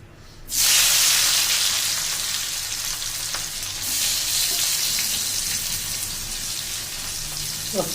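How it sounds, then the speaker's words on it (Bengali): Thinly sliced onions hit hot oil with a sudden loud burst of sizzling, then keep frying in a steady, close, crackling hiss with occasional pops. "পেঁয়াজগুলো কি ফুটছে? টাকবাক টাকবাক টাকবাক টাকবাক করে ফুটছে।"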